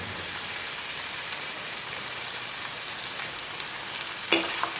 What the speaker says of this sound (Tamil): நன்றாக அடுப்பில் கொதிக்க விட வேண்டும்